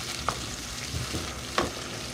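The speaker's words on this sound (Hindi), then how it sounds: "2 से 3 मिनट हम इसको भूनेंगे इस तरीके से" Onions and potatoes for aloo anda curry fry softly in a pan, a low steady sizzle with a couple of light clinks of a spoon stirring.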